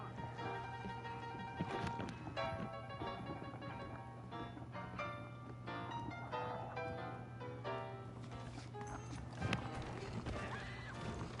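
Horses' hooves clip-clop in Red Dead Redemption, a steady walking gait of several saddled horses, moderately close, with a whinny among them and faint ambient game sound underneath, no talk.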